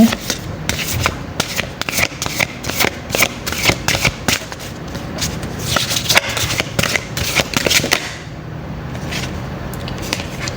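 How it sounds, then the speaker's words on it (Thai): Tarot cards being shuffled by hand in a steady, close rustling and riffling run that carries on for about eight seconds before easing into quieter handling near the end. "เดี๋ยวเราขอ สับให้เพิ่มสักนิดนึงนะ"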